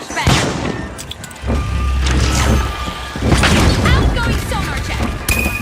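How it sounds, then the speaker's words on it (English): A flashbang grenade goes off in The Finals video game, a loud booming burst within dense, continuous game noise, with voices present. "Using a flashbang."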